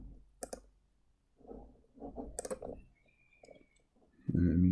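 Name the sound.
computer mouse clicking in Revit software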